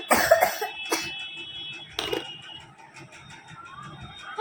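A young girl coughing indoors: a few short, sharp coughs near the start, another around two seconds in, then quiet room tone with a faint steady tone in the background.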